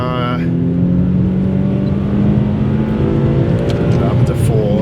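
Nissan Skyline 370GT engine pulling hard under acceleration while driven, a steady loud drone with rising harmonic tones, heard close from inside the car with no break in the sound.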